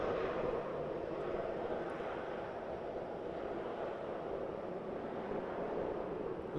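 Airliner's thrust reversers roaring after touchdown at Vancouver airport, a steady, broad, distant rumble of engine noise with no talk over it.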